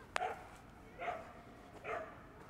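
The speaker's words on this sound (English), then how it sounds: "It is very quiet, except for that barking dog." A dog barks at night in a quiet Krakow street, three distinct barks spaced about a second apart, moderately distant and faint against a low background hum.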